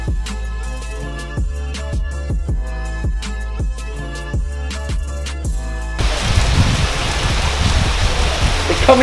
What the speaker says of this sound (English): that's some heavy rain